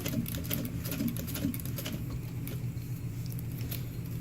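A domestic sewing machine stitches a fabric Dudley bifold wallet, a steady, continuous mechanical whir with a fast needle patter that runs unbroken at close range, with no talking.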